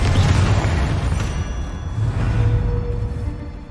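A Confringo fire-blast spell goes off in Hogwarts Legacy, a loud booming burst with a rushing whoosh that swells at the start, then rumbling low roar and ringing tones trailing through the rest.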